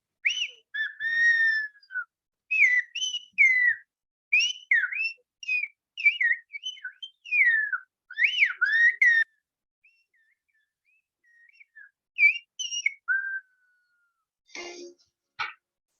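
Whistled language, with a person imitating birdlike calls: rapid sequences of sliding, chirping whistles in short bursts, clear and close, pausing briefly before a few final whistled notes.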